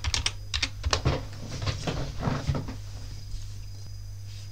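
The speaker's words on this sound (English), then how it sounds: "type in your password" A password being typed on a computer keyboard: a quick run of close, crisp key clicks for about three seconds, then fading to quiet room tone.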